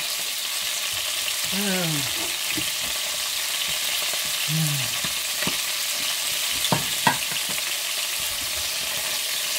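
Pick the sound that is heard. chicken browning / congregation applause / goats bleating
chicken browning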